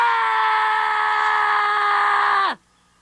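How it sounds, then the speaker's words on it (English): A loud, sustained scream from an audio cassette story, holding one long shrill tone for about two and a half seconds before cutting off sharply into silence. "he could finally scream."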